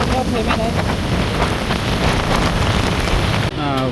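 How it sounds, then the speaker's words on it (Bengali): Heavy rain pours steadily in a dense, loud wash during a monsoon trip near Sitakunda, Chattogram, with a brief dip near the end; no one talks over it. "প্রচুর পরিমাণে বৃষ্টি হচ্ছে"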